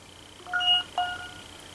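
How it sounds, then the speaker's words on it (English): A phone notification goes off with two short, clear electronic beeps in quick succession, fairly quiet against a faint steady background hum, with no talking. "Sorry, that's my phone going off."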